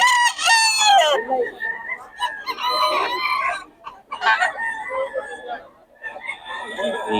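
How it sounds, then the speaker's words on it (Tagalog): A rooster crows loudly and up close several times in succession, the long strained calls repeating with brief pauses between them. "Manok ni boss Chacha to."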